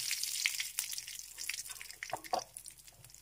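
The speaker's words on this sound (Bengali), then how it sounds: "এবার এই তেলেই দিয়ে দিচ্ছি ফোড়ন। ফোড়নটা একটু ভেজে নিচ্ছি" Whole spices crackle and sizzle in hot oil, a dense, close spatter of tiny pops and hissing that continues steadily for a few seconds, fairly quiet overall.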